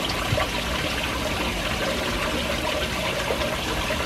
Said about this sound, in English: I'm gonna dump all of this water in here